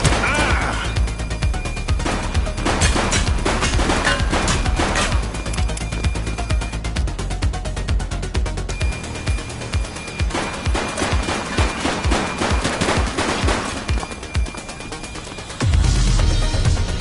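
Gunfire from a suspect in The Precinct, a police video game on PS5, crackles in loud rapid bursts through a dense, busy mix of other game sounds and impacts.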